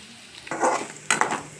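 Spices frying in a home kitchen pan give short bursts of crackling sizzle, with stirring scrapes and clinks. Three separate surges come up out of a quiet background, and no one speaks.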